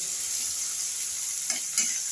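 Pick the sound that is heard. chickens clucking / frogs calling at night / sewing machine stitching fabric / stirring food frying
stirring food frying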